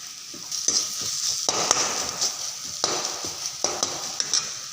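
Spices frying and being stirred in a pan of oil while cooking broiler chicken with pumpkin, a steady close sizzle with repeated scraping stir strokes throughout, no voices.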